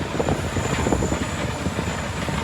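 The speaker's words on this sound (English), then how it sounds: "the engineer demonstrated a engine crank on number 1" Number 1 engine of an airliner at a European aircraft storage yard being cranked with bleed air, a steady loud whooshing roar that holds even throughout, with a faint high whine above it.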